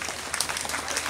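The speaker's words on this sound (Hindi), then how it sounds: "बहुत धन्यवाद तालियों के लिए।" Crowd applause at a church youth group's cultural dance program. A brief burst of dense, moderately loud clapping from many hands blends into a continuous wash for about a second.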